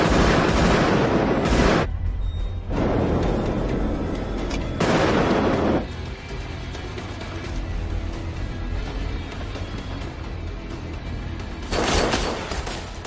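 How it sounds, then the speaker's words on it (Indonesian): Gunfire in a shootout scene from a hacker film, dense bursts of shots and booms over a rumbling background, with several loud sharp blasts standing out near the start and end. "dan baku tembak pun terjadi"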